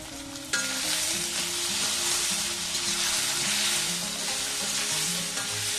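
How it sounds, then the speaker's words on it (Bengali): Bathua greens seasoned with salt and turmeric fry in a hot pan, a loud steady sizzle that bursts in suddenly and keeps crackling without pause, with faint stirring scrapes underneath. "এটা দু তিন মিনিট একটু নরম করে ভেজে নেব ঢাকা দিয়ে দিয়ে"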